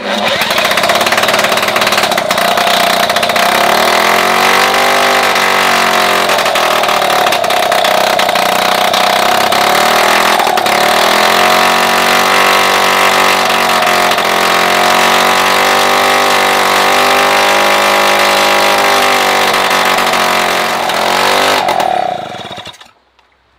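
A Solex 2200 moped engine starts and runs steadily, a loud, close, buzzing two-stroke drone holding a near-constant pitch with slight wavers for about twenty seconds before cutting off abruptly.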